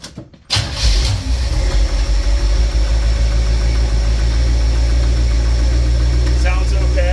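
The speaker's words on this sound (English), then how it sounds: "I'm gonna fire this thing up and let you guys hear the madness" A van engine cranks briefly, catches and fires up, then settles into a loud, rough, steady idle with a heavy low rumble and slight uneven knocking throughout.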